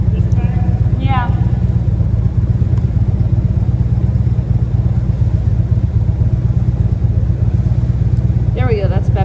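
A motorcycle engine runs steadily with a low, loud rumble throughout, accompanied by wind and road noise, while brief voices speak over it.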